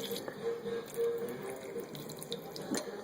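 Tap water runs steadily into a cooking pot for a homemade chicken soup, a continuous splashing hiss lasting the whole few seconds with a brief clink near the end.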